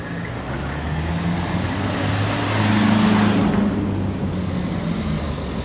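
Cars pass on a hilly street in Lisbon, a continuous traffic rumble that swells to a nearer engine hum midway and then eases back, without talk.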